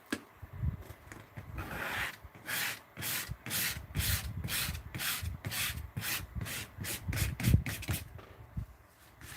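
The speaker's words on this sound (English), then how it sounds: "I'm going to scrape there where my name is. Let's kind of scrape this a little." Paint being scraped across a painting's background in steady rhythmic strokes, a repeated rasping rub close up with a faint bump underneath, continuing for several seconds with no talking.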